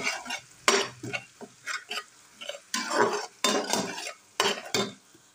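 Whole spices and masala frying in hot oil in a pan for sarson ka saag, with repeated bursts of crackling sizzle and scraping stirring strokes close up, no voices.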